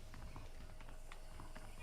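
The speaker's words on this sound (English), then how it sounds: "The horses are saddled up over here." Horse hooves clip-clop in the Red Dead Redemption video game, a steady run of soft hoofbeats on the Xbox One, sitting in constant background game ambience with faint talk-like sounds beneath.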